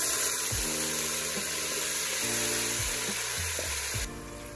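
Mutton sizzles and fries in a pot for Pakistani pulao, a steady close hiss with several low clunks of stirring or the pot shifting.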